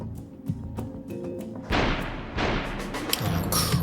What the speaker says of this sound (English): He shot something.